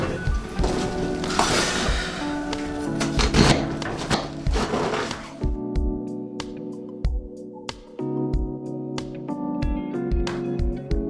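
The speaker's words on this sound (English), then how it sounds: "I'll get this finished chopped up" A knife chops vegetables for vegan kimchi on a board: a busy, clattering stretch first, then steady, evenly spaced thuds against a faint tonal hum.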